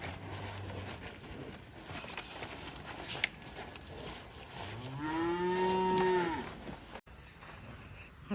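A cow on a farm lets out one long, fairly close moo in the latter half, over quiet outdoor background with faint scattered noises before it.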